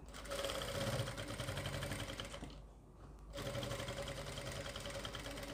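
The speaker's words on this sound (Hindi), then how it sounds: "जब आप सिलाई लगाएं ना तो बिल्कुल आराम से सिलाई लगाएं" A sewing machine stitches around the front neck curve of a garment, running steadily with a fast, even whir. It stops briefly, then resumes at the same pace.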